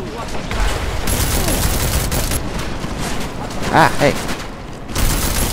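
Sustained automatic gunfire in Deus Ex: Mankind Divided, dense rattling volleys throughout, with a man's brief exclamations heard over the shooting.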